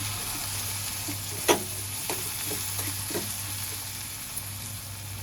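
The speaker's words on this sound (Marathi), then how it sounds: "हळद, चणा पावडर, जिरा पावडर, लाल मसाला आणि कोकम घालूया आणि एकदा परतून घेऊया." Turmeric, gram flour, cumin powder, red chili masala and kokum stir-fried in a pan: a soft continuous sizzle with scattered spatula scrapes and taps, one sharper knock early on, no talking.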